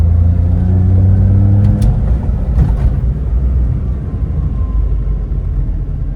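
A car at a car yard in Osaka gets one quick throttle punch, giving a loud close rev that swells for a couple of seconds and then drops back to a rumbling idle, with no talking.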